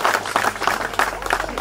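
A crowd applauding the family at a street dedication ceremony, with moderate, uneven clapping that rises and falls in short bursts.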